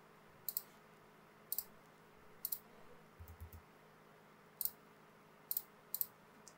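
A computer mouse clicks crisply and quietly about eight times in uneven pairs and singles during SolidWorks modelling, with a faint soft thump partway through and no talking.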